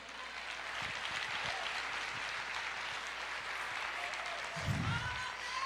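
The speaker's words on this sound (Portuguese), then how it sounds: "Você pode aplaudir o Senhor Jesus?" A church congregation applauding steadily throughout, a dense wash of clapping with a few low voice sounds underneath.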